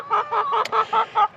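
Chickens clucking in a quick, steady series of about seven close, clear clucks, with no talking.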